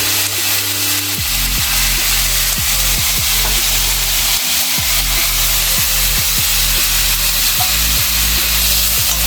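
Kimchi fried rice with kimchi sizzling loudly in a hot pan, punctuated by repeated scraping strokes of a spatula stirring and tossing it, steady and close with no talking.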